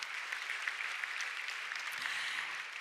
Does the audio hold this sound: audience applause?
yes